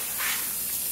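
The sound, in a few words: Spray Systems 9001 jet spraying through #1 tip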